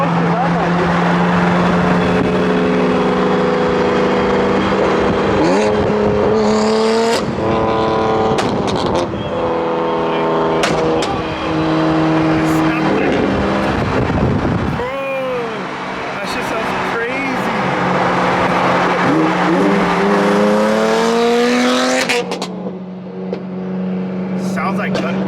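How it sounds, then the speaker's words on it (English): A tuned BMW F80 M3 engine revs hard and loud, its pitch sweeping up and falling back in several repeated bursts, with people talking over and between the revs. "I'm super excited to hear Nick's car with the new setup and the tune that he got"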